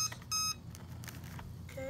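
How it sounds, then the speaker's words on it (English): An E-flite Valiant 1.3m RC aircraft powers on with a short series of electronic startup beeps. A steady tone sounds near the start, a few shorter chirps follow, and quiet low background hum continues underneath, with no talking. "go ahead and power on the aircraft. You'll hear these beeps."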